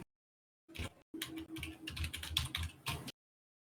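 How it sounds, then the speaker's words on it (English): Rapid keystrokes clatter on a computer keyboard during an online Dungeons and Dragons session, a faint, busy burst of clicks lasting about two and a half seconds with a short pause near the start and no talking. "Why do I hear typing?"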